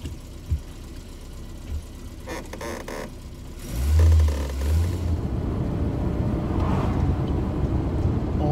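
An Austin Allegro on a test drive for a possible misfire, with an engine droning continuously from inside the car, a low surge partway through, and road rumble underneath.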